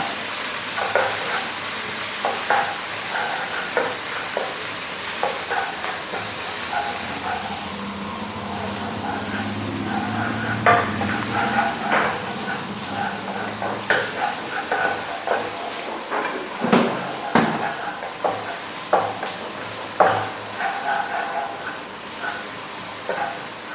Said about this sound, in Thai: ใส่น้ำมันหมูลงไป พริกแดงจินดากระเทียม ผัดให้หอมนะครับ ใช้ไฟแรงนะครับ